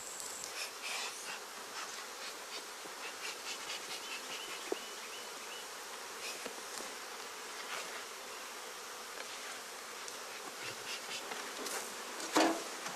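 A dense, continuous buzzing of many honey bees swarming nearby as combs full of bees are set outside the hive for shaking into packages, steady and busy, with occasional faint knocks and rustles.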